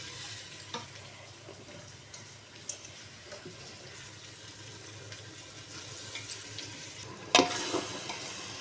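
Tomatoes, about 400 grams, sauté in a pan as part of a curry, giving a steady soft sizzle with light stirring scrapes and one sharper clatter near the end, with no talking.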